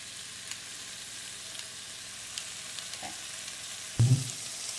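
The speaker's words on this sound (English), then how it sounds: "All right, so we got the bacon going." Bacon frying on a gas stove, with a steady soft sizzle running throughout and a brief louder clatter near the end, no voices.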